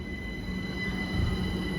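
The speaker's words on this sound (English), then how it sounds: "And here is the 387 on 1339 Great Western Railway service to Didcot Parkway." A Great Western Railway Class 387 electric train passing through Cholsey station on the Great Western Main Line, a steady loud rumble with wheel squeal throughout.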